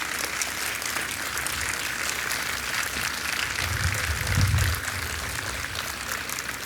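An audience at an Urdu literary festival applauds to welcome poet Gulzar onto the stage, a steady, moderately distant wash of clapping that swells briefly near the end.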